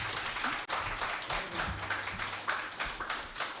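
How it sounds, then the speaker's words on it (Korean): Applause from a lecture audience at the close of a talk, with in-room listeners clapping together; dense, steady clapping with sharp slaps fills the whole stretch at close range. "줌에서 하시는 분들하고 모두 박수치고 끝내도록 하죠"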